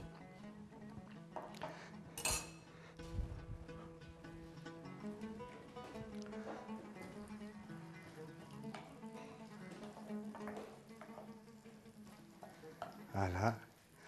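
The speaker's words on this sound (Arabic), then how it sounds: "هلا خليه الطماطم يتقلى" Tomatoes and onion fry in a pan in a Tunisian home kitchen, a soft steady sizzle under a cook's quiet talk, broken by occasional stirring scrapes and clinks of a utensil against the pan.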